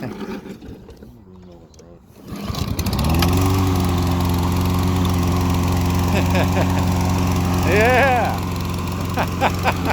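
A Saber Edge lawnmower with a smoky Briggs & Stratton OHV engine starts and settles into a loud, steady running drone close by, with a brief voice and some clatter over it.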